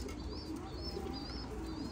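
Pigeons coo softly in a repeated rhythm of gentle rising-falling calls, three close together over a constant low hum of background noise.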